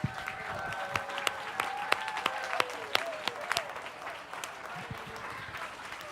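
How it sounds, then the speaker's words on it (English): A benefit auction audience breaks into sustained applause after a bid total is announced, dense hand clapping filling the room for several seconds, with a faint tonal hum beneath and no clear speech over it. "Give yourselves a round of applause."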